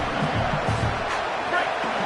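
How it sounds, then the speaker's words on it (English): Stadium crowd noise from a USC at UCLA college football video game, a steady loud roar of cheering that swells slightly, with a commentator's voice faintly under it. "and this crowd is turning it up a notch"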